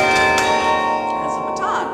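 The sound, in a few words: carillon bells played from a clavier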